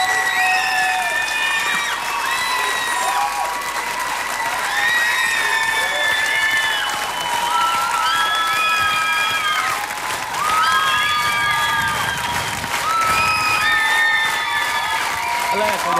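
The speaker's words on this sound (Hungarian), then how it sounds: "megvan az állva taps itt a stúdióba" A television studio audience gives a standing ovation after a singer's ballad performance in a talent show final. Loud, sustained applause and cheering fill the room continuously, with high whistles and shouts rising above the clapping.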